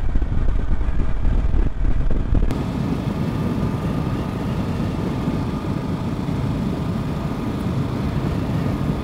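A motorcycle engine hums steadily while cruising at about 47 mph, recorded from a helmet-mounted mic, mixed with constant wind rush and road noise throughout.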